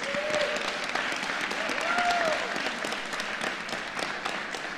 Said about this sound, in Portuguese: Dá uma salva de palmas para o Anderson.